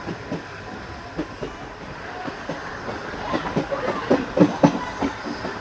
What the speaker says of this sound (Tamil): ட்ரெயின் நம்பர் 56836 காரைக்குடி மயிலாடுதுறை பேசஞ்சரில் தான் நம்ம இன்றைக்கி ட்ராவல் பண்ண போகிறோம்